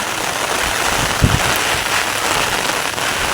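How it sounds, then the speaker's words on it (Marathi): Heavy monsoon rain patters densely and steadily on an umbrella overhead in Devgad, Konkan, a constant close hiss with a brief louder thump partway through. "पाऊस जोरदार हळूहळू वाढता"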